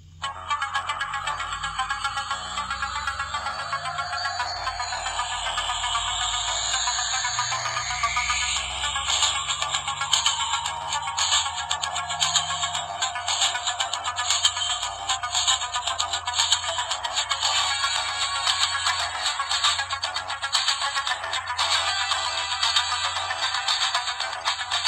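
A synthesized Knight Rider ringtone melody plays continuously and steadily from an early smartphone at moderate volume, looping an electronic tune with no talking.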